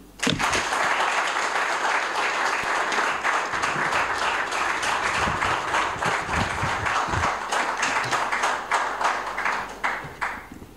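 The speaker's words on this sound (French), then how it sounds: "Je vous prie de l'applaudir." Sustained audience applause for a peace ambassador at a ceremony, a dense, steady wash of many hands clapping that fills the room, loud and unbroken for about ten seconds before tapering slightly at the end.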